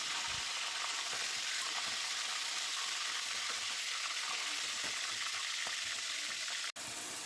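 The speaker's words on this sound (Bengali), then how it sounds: "অল্প অল্প করে রোস্টের সব মুরগিগুলো আমি ভেজে নেবো" Chicken pieces for a roast fry in hot oil, giving a steady, dense sizzle with occasional stirring scrapes throughout, close and even, with a brief dropout near the end.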